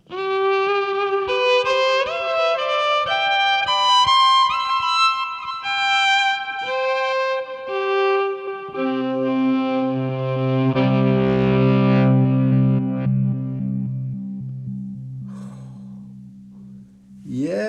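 A bowed violin played through a bass amp preamp on a clean setting plays a slow melodic line with a clean, slightly amplified tone, sliding into lower sustained notes and ringing out.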